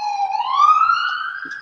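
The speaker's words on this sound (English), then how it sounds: "Well, the ambulance." An ambulance siren wails outside, a single rising tonal sweep with strong harmonics, fairly loud and clear, with no talk over it.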